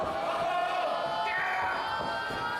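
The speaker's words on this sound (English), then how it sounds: "Crowd getting behind him" Pro wrestling arena crowd cheering, a dense continuous roar of many voices at a steady level, broad and somewhat distant.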